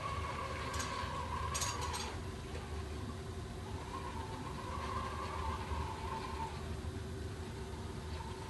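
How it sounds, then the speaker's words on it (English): Festo cyber-physical factory automated guided vehicle moving a carriage off its docking station, a steady mechanical whir and hum of motors and gears with brief clicks and whines, fairly loud and continuous with no talk. "Once the AGV has found out that it's docked and it's in the correct position, it will then move the carriage off"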